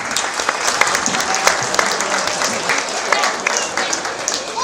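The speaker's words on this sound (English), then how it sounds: "I'm going to give all these young kids a round of applause" Spectators at a small animal show, where young exhibitors are showing hogs in the ring, clap in a moderate, continuous round of applause with individual claps audible and some background chatter.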